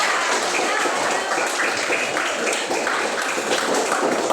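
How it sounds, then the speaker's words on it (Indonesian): Steady, dense applause from a classroom of students during a teaching practice session, continuous clapping filling the whole stretch at an even level with no pauses. "tepuk tangan untuk kita semua"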